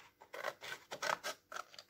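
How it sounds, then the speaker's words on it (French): Scissors cut along a diagonal through paper for a handmade stamped card, giving a close, crisp series of about eight snips in irregular rhythm, with no talking over them. "Donc, je vais prendre les ciseaux."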